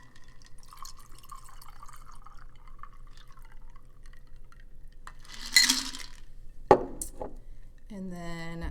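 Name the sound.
cocktail strained into an old-fashioned glass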